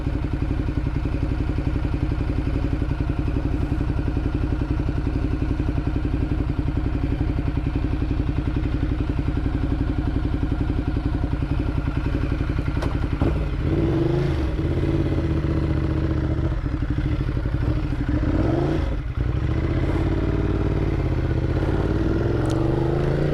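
A 2010 Ducati Multistrada 1200S rides through open countryside, its engine droning steadily with wind rush throughout and a few shifts in tone and revs near the end; no talking.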